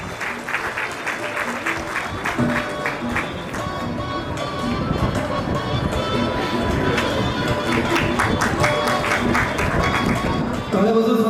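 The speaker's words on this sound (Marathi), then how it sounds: "जोरदार टाळ्या ऐकण्या होत्या" A crowd at a Vidarbha regional gathering of ITI instructors in Amravati welcomes a guest with loud, sustained applause. Dense clapping builds and holds for the whole stretch, with voices faintly mixed in.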